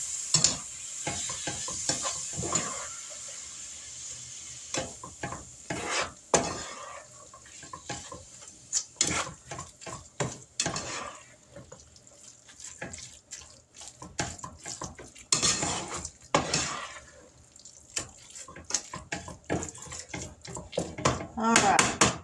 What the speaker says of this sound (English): So we're going to throw that in here. And let that be cooking along with the hamburger meat.